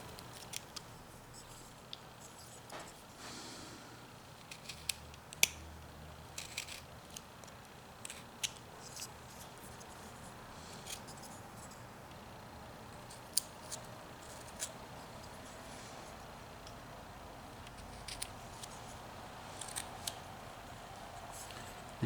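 A whittling knife cuts into a small piece of wood, giving quiet, scattered clicks and scrapes at irregular intervals over faint background hiss.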